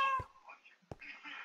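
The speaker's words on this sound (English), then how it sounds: "Hatchling. The half cat." A hatchling, the half-cat creature from the Minecraft SCP mod, gives a short, faint meow followed by a couple of soft clicks and quieter cat-like murmurs.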